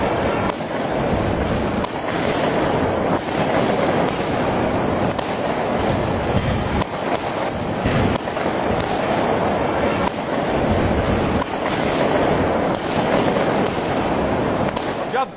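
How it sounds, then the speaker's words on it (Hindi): Loud firecrackers crackle and pop continuously in rapid bursts, a dense outdoor celebratory barrage with sharper cracks standing out now and then. "लोग पटाखे फोड़ रहे थे कि ले लिया बदला।"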